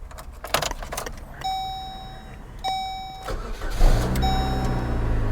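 A damaged automatic car at a salvage auction starts up with a short crank, then its engine idles loudly and close; keys jangle before the start and a faint electronic chime rings intermittently.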